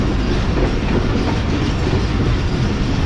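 The Karakoram Express runs through Toba Tek Singh station, a loud, continuous rolling roar of carriage wheels on rails with a rapid, even clatter and no talking.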